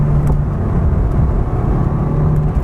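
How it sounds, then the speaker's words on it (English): Engine of a 1990 Mitsubishi Eclipse GSX heard from inside as it downshifts into a corner, a loud, steady droning hum with a shifting pitch, close and alone without talk. "It's a nice downshift, coming into a corner"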